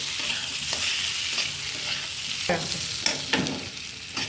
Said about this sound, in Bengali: হ্যাঁ, ভালো করে কষিয়ে নিচ্ছি।